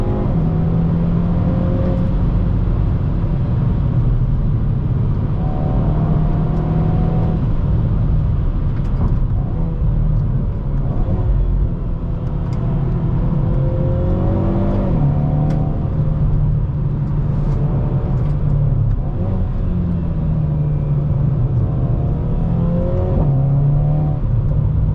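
2022 Hyundai Veloster N with a dual-clutch gearbox, steady engine drone heard from inside the cabin while driving, with the pitch repeatedly climbing and dropping as it accelerates and shifts, loud and continuous.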